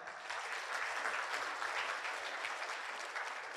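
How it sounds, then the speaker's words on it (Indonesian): Audience applause for leaders during a motivational talk at an Indonesian business seminar, a steady dense clapping that is fairly quiet and holds evenly throughout with no talk. "tepuk tangan buat para leader saya"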